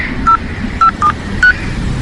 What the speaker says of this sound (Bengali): রাকাকে ফোন করাটা সেরে নেওয়া দরকার